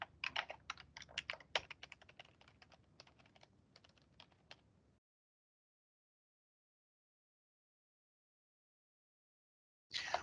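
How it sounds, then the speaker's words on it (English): Rapid typing on a computer keyboard, close and clear, a dense run of key clicks for about five seconds, then silence before a brief burst of keys at the very end. "start typing in OneDrive until you see the OneDrive app"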